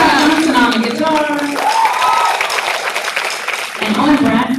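Applause at a jazz concert from an audience, a continuous wash of clapping and crowd noise with a voice speaking over it, strongest at the start and end.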